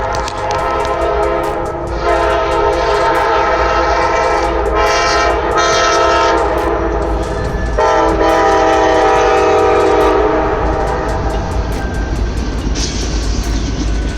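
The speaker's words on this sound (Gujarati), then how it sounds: "જો ટ્રેન અહીંની ટ્રેન બતાવું છું તમને।" A short train of four coaches with engines at both ends rolls past close by in North Carolina, a steady heavy rumble with rail noise throughout and a horn sounding briefly near the end.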